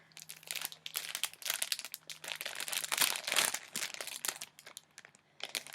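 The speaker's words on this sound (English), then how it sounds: "But this is some paper, and it's like meant to look aged." Paper made to look aged is handled and crinkled up close, giving dense crackling and rustling bursts that swell and fade over several seconds.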